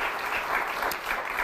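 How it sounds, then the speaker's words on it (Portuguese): A short burst of continuous applause from a small audience, even and dense clapping filling the whole moment with no voices. "Um aplauso"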